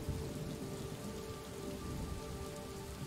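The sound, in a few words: thunderstorm rain in video game Superliminal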